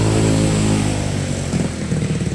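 An LG inverter refrigerator's machinery runs after a switch is pressed, giving a steady, loud mechanical hum with strong low tones that waver slightly toward the end.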